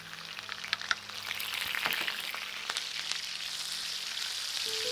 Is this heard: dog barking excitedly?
no